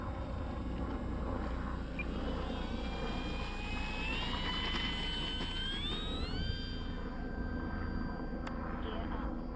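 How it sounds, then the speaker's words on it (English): A helicopter far off drones steadily and faintly for the whole stretch, with a higher-pitched whining model-airplane motor rising and shifting over it during an RC flight of an E-flite F4U-4 Corsair 1.2 m; a voice talks intermittently. "That helicopter's a good ways away."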